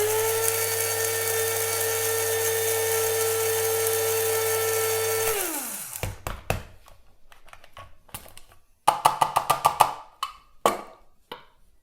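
A coffee grinder whirs steadily as it grinds beans finer, a loud even motor hum that winds down and stops, followed by scattered tapping and knocking sounds.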